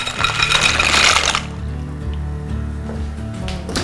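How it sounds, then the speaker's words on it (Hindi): Dry pasta drops into a pot of boiling water with a bright rattling clatter and splash for about a second, then a low steady bubbling simmer continues up close. "अब डालना है पास्ता।"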